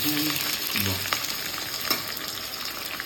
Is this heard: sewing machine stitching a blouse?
no